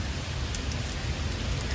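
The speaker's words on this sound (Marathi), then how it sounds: "गाईज हा बघा पाऊस." Steady rain falls in a garden as a dense, even hiss with a low rumble underneath, close and continuous throughout, and no voices.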